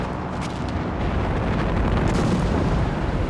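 Recon artillery barrage landing in Company of Heroes 3, a continuous, loud, rumbling roar of overlapping explosions with no gaps, swelling slightly toward the end.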